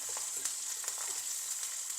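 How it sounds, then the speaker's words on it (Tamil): Dried red chillies fry in hot oil for a Sri Lankan dosa side dish, giving a steady, close bright sizzle with small crackling pops throughout, no voices. "காஞ்ச மிளகா கருவக்கூடாது கொஞ்சம் பொரியணும்"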